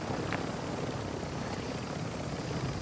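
Helicopter in the video game Call of Duty Warzone, a steady dense rotor and engine drone filling the whole stretch at a constant level, with no talk over it.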